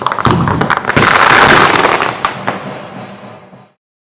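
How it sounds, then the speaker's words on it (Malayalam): Fireworks bursting at a temple festival in Nenmara, a loud dense barrage of booming and crackling explosions that rolls on continuously, then fades out near the end. "അപ്പോൾ വെടിക്കെട്ട് നടക്കാണ്,"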